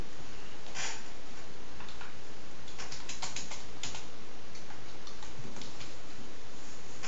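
Java code being typed on a computer keyboard produces a steady stream of close, crisp key clicks in quick bursts with short pauses, loud and without speech.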